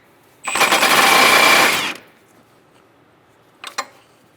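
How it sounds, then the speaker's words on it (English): An impact gun loosens a Subaru Forester axle nut through a 32mm axle socket, a loud continuous buzzing rattle of about one and a half seconds, then brief clanks as the tool settles. "we're going to use a 32mm socket, axle socket, and undo our nut"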